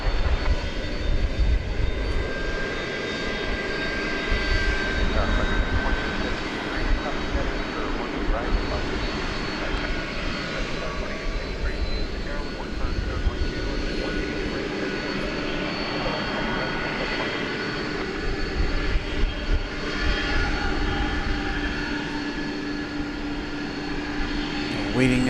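MD-11 jet aircraft engines at DFW Airport give a steady, loud roar that runs throughout under occasional talk.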